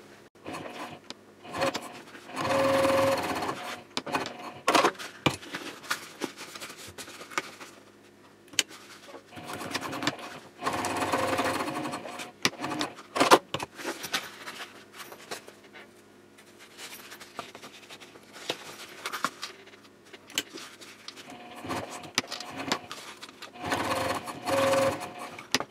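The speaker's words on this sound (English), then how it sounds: "I'm top stitching now on each side of the exterior seams 1/8 of an inch away from the seam" A domestic sewing machine topstitches the exterior seams of a fabric sling at a long stitch length, running in several loud, steady whirring bursts separated by pauses and quieter handling noises.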